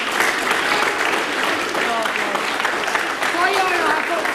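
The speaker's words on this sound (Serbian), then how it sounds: "Aplauz." Studio audience applause on a television talk show, continuous and fairly loud, with voices calling out over the clapping throughout.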